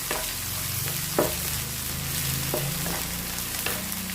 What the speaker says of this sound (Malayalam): അത് നമുക്ക് ഇതിലിട്ടെടുത്തിട്ട് നല്ലോണം ഒന്ന് പൊരിഞ്ഞ് കിട്ടട്ടെ